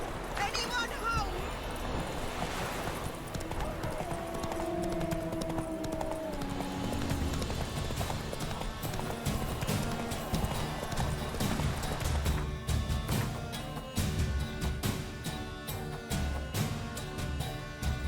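Horse hooves galloping in The Witcher 3, a continuous rhythmic clip-clop under game music and effects, with a voice speaking briefly over it.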